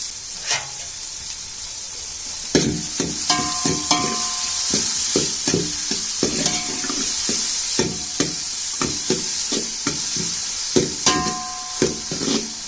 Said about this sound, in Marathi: कांदा थोडासा गोल्डन ब्राऊन होईपर्यंत फ्राय करून घेऊया